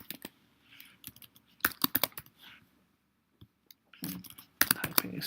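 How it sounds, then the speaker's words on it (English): Keys clatter on a computer keyboard in irregular bursts of quick clicks, with short pauses between runs of typing, close but fairly quiet and with no one talking. "Typing is so bad today."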